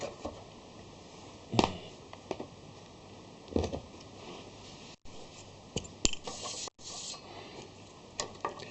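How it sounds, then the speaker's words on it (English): Rubbing and scraping on a vintage fluorescent tube in an old fitting, a series of irregular dry friction strokes and light knocks, fairly close and moderately loud, with brief gaps of silence between bursts. "Sometimes when you rub a tube like that, it'll go."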